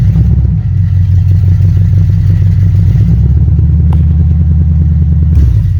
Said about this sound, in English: it'll sit here and idle and runs fine